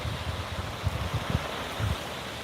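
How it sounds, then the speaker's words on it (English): A snowmelt-swollen river rushes steadily nearby, a broad, continuous wash of water with low rumbling surges underneath and no voices. "It should be flowing pretty good because everything's melting"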